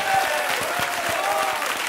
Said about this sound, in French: Un applaudi Dany Briand